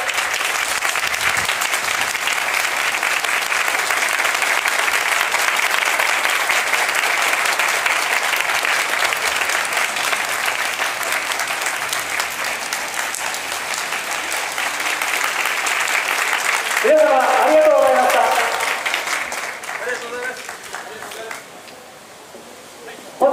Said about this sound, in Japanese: 20秒間の拍手オベーションをさせていただき